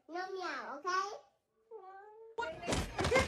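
A cat meowing close by, two drawn-out wavering meows followed by a shorter softer one, then a burst of louder clattering noise.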